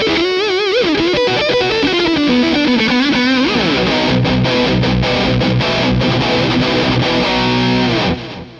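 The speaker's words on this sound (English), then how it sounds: "The sound you heard at the top of the video was the Dark Terror set as you see it here with the DD20 in the loop." An Orange Dark Terror guitar amp head with a Boss DD20 delay in the effects loop, heard through an open-back 2x12 cabinet. Loud, distorted lead guitar with bent notes that moves into dense, heavy chording, with no talking.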